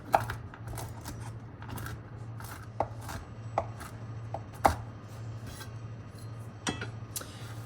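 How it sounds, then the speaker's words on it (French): A knife coarsely chops garden hazelnuts on a board for a chocolate fondant topping, giving irregular sharp taps and crunches, some louder than others, over a low steady background hum. "je vais hacher quelques noisettes du jardin pour mettre dessus"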